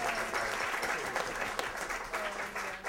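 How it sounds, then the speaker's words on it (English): Audience clapping at a live salon show, a steady wash of applause from a seated crowd that holds at an even level from start to finish. "that's worth clapping for"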